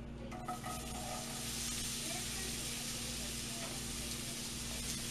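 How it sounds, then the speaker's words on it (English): Chopped onions go into melted butter in a pan, giving a soft, steady sizzle that stays faint and low in level. "So I'm just going to dump these onions into our melted butter."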